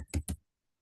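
Two quick, close keystrokes on a computer keyboard while a COUNTIF formula is typed into a spreadsheet, then silence.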